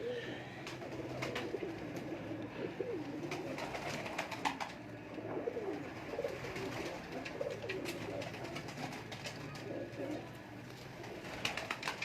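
Ferozpuri pigeons coo in a breeding loft, soft low repeated calls continuing steadily over a busy background hum with faint ticks and clatter.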